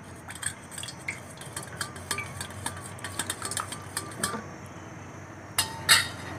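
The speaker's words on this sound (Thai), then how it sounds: "กวนให้เข้ากันนะครับ" A spoon stirs a water mixture in a container, giving irregular light clinks and scrapes against the sides, with a couple of sharper knocks near the end.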